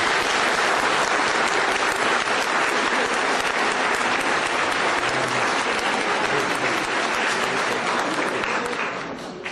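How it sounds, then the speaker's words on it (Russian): A hall audience gives sustained, dense applause at an honorary doctorate ceremony, the clapping loud and steady throughout before easing slightly at the very end. "мы будем аплодировать им так же, как сегодня мы аплодируем Галине Павловне Вишневской."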